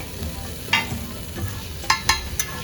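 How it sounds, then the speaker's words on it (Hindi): Galawati and boti kebabs cook on a hot griddle at a Lucknow kebab stall, with a steady close sizzle broken by several sharp scrapes and clanks of a spatula. "तो ये अब गलावटी कबाब हमारे सामने बन रहा है"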